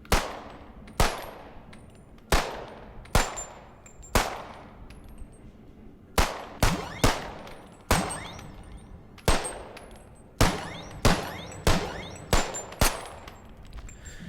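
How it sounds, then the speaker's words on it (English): A Glock 17 9mm pistol fired two-handed, about sixteen sharp, loud reports, each followed by a ringing decay, spaced unevenly with some quick pairs, with no talk between the shots. "Take it with two hands and fire."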